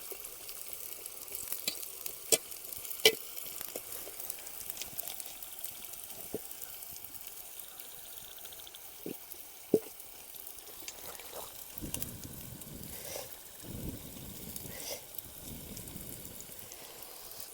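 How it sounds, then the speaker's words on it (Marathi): Onion frying in a pan outdoors near a river, a steady soft sizzle with occasional sharp pops and stirring clatters, fairly close and continuous throughout. "कांदा टाकला आणि आता थोडा म्हणजे तो जरा म्हणजे थोडा शिजवायला लागेल"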